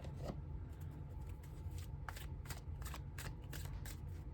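Tarot cards shuffled by hand in a steady rustling run, with repeated soft riffling bursts close to the mic over a low background hum.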